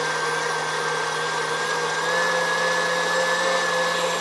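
Electric mixer whipping cream, a steady loud motor whir with a slight step up in speed midway, alone without talk.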